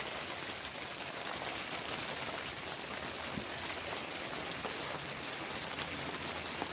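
Heavy rain pours down in a steady, dense wash of hissing noise, with no breaks and no voices.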